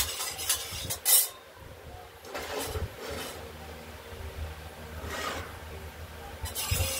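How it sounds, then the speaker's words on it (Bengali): Peanuts are fried and stirred in a pan, with a spatula rasping and scraping in several separate bursts over a steady low sizzle, close up and with no talking. "বাদামটা ভেজে নিচ্ছি, তারপর শাকটা ফুটে রান্না করব।"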